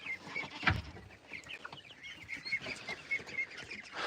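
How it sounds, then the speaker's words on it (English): Chickens cluck and ducks call in a farmyard, a mix of scattered clucks and short squawks at moderate distance with a sharp knock near the start. "We're just hanging out with the ducks and the chickens."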